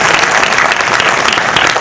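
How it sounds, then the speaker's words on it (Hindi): Dense, loud applause from an audience at a Hindi poetry recital in Mumbai, continuous clapping throughout with no pauses. "माला पहनाने में ताली बजाई जाती,"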